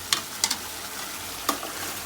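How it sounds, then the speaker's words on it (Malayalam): Chicken curry with tomatoes stirred in a pan, a few distinct spoon scrapes against the pan over a soft background sizzle, with no talking. "എല്ലാം കൂടെ ഒന്ന് ഇളക്കി"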